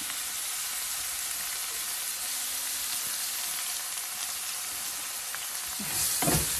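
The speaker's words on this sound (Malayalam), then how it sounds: "പിന്നെ നന്നായിട്ടൊന്ന് വഴറ്റണം" Carrot and curry leaves sauté in a hot pan with a steady, close sizzle and hiss throughout, rising briefly louder near the end as the pan is stirred.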